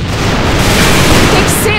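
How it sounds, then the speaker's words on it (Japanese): A grenade blast in the video game AVA, a loud, dense burst of explosive noise filling the whole clip without a break, as talk mixes in underneath. "手榴弾投擲"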